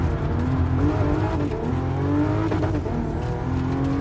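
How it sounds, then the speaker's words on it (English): A race car engine in GT Sport screams at high revs and over-revs, a loud continuous drone with wavering pitch, close and alone. "Actually managed to overrev it a bit."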